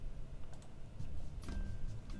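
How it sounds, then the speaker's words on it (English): Computer keyboard keys are pressed several times, giving faint, scattered clicks over a low background hum with no talking. "Why is pressing the 1 key on my keyboard not doing anything?"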